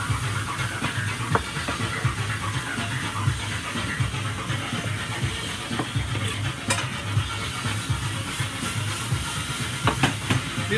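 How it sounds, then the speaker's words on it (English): Garlic sizzling as it is added to a hot pan, a steady loud frying hiss with crackles and occasional stirring scrapes. "Now I'm gonna add the garlic."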